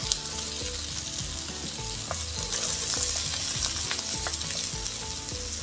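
A cup of onion frying in plenty of oil for a vegan kimchi tofu stir fry, a dense steady sizzle with crackles and light stirring clatter, close and unbroken by talk.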